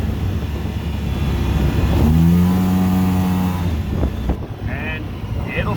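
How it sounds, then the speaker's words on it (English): Polaris Ranger 700 EFI utility vehicle engine revving up in high gear, a loud rising whine that climbs for a couple of seconds then settles, with engine noise throughout and a brief voice near the end. "we're going to ease in on throttle because this thing's really touchy"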